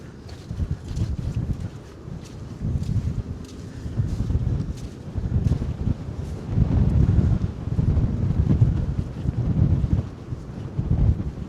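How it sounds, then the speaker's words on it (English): Strong gusts of wind at Applecross Bay on the Scottish coast buffet the microphone in a constant low roar that swells and eases over several seconds. "It's quite windy."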